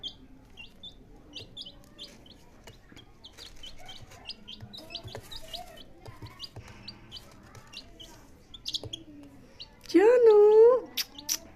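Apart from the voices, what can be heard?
small birds chirping in an old cage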